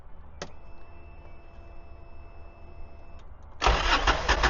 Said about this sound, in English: when cranking the engine, after a few turns, when the pressure is built up by the pump